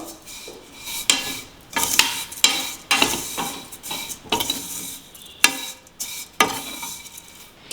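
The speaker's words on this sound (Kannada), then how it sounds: "ಶಾವಿಗೆನ ಹಾಕ್ಬಿಟ್ಟು 1-2 ನಿಮಿಷ ಹುರ್ಕೋಬೇಕಷ್ಟೇ. ಪೂರ ಮಿಕ್ಸ್ ಮಾಡ್ತಾನೆ ಹುರಿಬೇಕು." Kunafa vermicelli roasting in a pan while being stirred, heard as a steady run of scraping, clinking strokes every half second or so over a soft dry sizzle, close and fairly loud.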